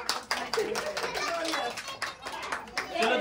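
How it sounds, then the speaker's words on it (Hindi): Hands clapping at a two-year-old child's birthday party at home, a quick irregular run of claps from several people mixed with children's chatter and adult voices. "ताली बजा"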